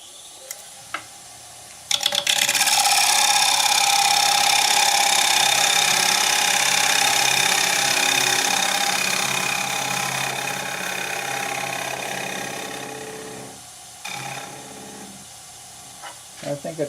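A wood lathe spins as a negative rake scraper cuts an oak bowl turned from firewood. The result is a loud, steady, broadband scraping hiss that starts abruptly, runs for about twelve seconds with a whirring hum underneath, then drops away to short bursts.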